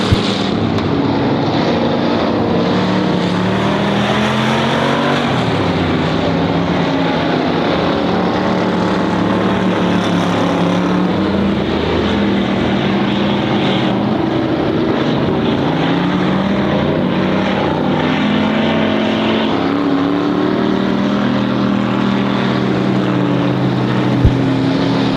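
Hobby stock race cars roar through an eight-lap heat race at Honor Speedway, their engines merging into a loud, continuous drone that swells and fades as they circle the track, with no voices over it.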